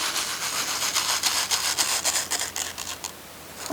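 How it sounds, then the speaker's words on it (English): Sage seeds sprinkled from a paper packet over garden soil, a series of soft dry rustling and pattering bursts with a brief pause near the end, close and quiet. "I just sprinkle the entire packet"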